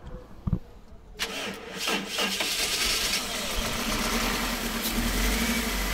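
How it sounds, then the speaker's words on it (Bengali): A Toyota Hiace Super GL with a 1TR 2000cc VVTi engine, converted to CNG, cranks and catches after a short quiet stretch, then settles into a smooth, steady idle close by. "আমরা গাড়িটা স্টার্ট করে আপনাদেরকে দেখাবো"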